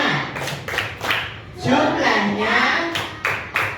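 A group claps rhythmically while chanting Tepuk Al-Maun: bursts of sharp claps at the start and end around a stretch of loud chanted voices.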